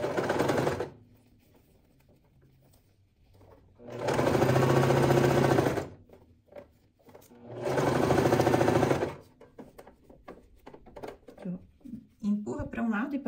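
Sewing machine stitching a bias-cut satin scrunchie, three loud sustained runs of rapid needle clatter separated by pauses, close up, with handling noises and clicks between runs.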